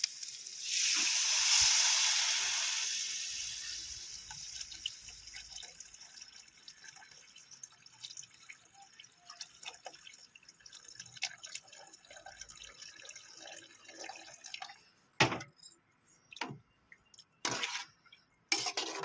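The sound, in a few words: pouring tamarind water into sautéed onions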